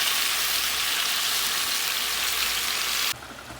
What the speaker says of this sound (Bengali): যে মশলা কষিয়ে মাছ এখন কষিয়ে নিচ্ছি